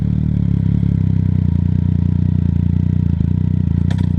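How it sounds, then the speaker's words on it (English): A 2015 Yamaha MT-09 Tracer (FJ-09) with an Akrapovic titanium exhaust idling close by, a loud, steady low rumbling pulse with a short clatter near the end. "I'm actually going to try and see if I can pick up some better audio of the exhaust"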